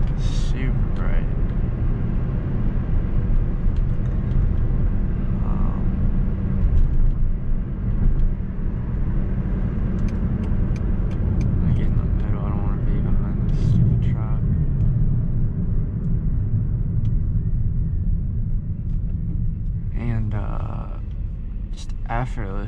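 A 2005 Mercedes-Benz C240 4Matic with a manual transmission cruises on the road, its cabin filled with a continuous low engine and road rumble. A person talks over the noise throughout.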